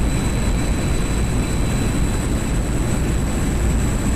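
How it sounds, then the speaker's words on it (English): MiG-21 Fishbed jet engine in DCS World, a loud steady roar with a constant high whine running unbroken throughout, no voices. "What a beast of a plane."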